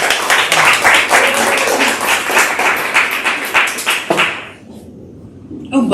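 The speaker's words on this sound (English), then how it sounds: "Let's clap for Jeff, people." Clapping from a room of attendees at a real estate team meeting, brisk and fairly loud for about four seconds, then cutting off into near quiet before a voice and movement return at the end.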